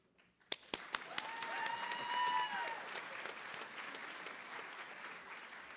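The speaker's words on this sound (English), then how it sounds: "Certainly everyone nominated deserve rounds of applause for their great work" At a student service and leadership awards ceremony, a few separate claps ring out, then the audience breaks into fuller applause for the nominees that swells and holds, with a brief whistling tone over it.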